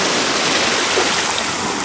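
Water washing over a rocky beach makes a steady, loud, broadband rush with no distinct breaks, close by and mixed with wind noise.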